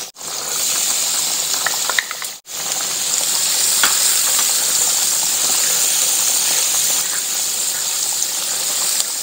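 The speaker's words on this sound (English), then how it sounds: "go ahead and saute your onions with a little butter and olive oil" Onions sauté in butter and olive oil in a pan, giving a loud, steady sizzle with brief stirring interruptions and no voices.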